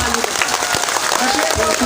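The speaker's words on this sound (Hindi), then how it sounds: "एक बार आप अपने लिए ताली बजाएं" An audience at an Urdu poetry gathering in Hailakandi, Assam bursts into dense, continuous applause throughout, loud and close, with a voice audible over the clapping.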